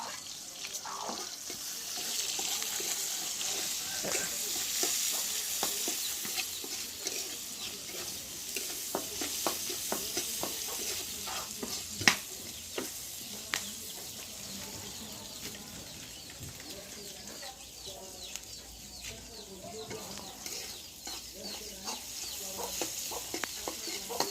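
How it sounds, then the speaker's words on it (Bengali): Potato and ridge gourd bhaji fries in a pan in a Bangladeshi home kitchen. A low sizzle runs under scattered clinks and scrapes of stirring, with a brief splash of running water, and no one speaks. "আমি এখন রান্না করছি আলু ডেঙ্গা ভাজি।"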